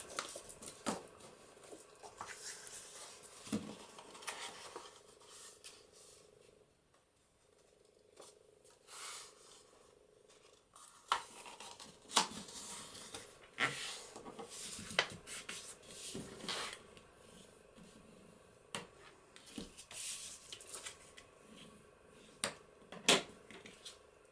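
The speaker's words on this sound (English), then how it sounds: "now I'm going to fold these in half" Paper pieces are folded in half for a handmade craft folio, producing quiet, intermittent rustles, creases and soft rubbing strokes at close range with no talking.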